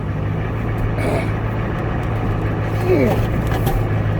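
A 1990 Ford F Super Duty truck with a 7.3 IDI diesel engine, revived after fifteen years of sitting, idles and rumbles loudly up close as it reverses, its engine drone steady under nearby talking.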